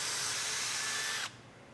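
A power drill boring a hole into a raw guitar body, a loud close whirring hiss that holds steady and then cuts off abruptly, leaving a quiet room.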